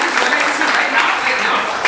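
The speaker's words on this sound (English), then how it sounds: "Maybe I have a round of applause." A burst of audience applause, dense steady clapping filling the moment, loud and close, with no clear voices above it.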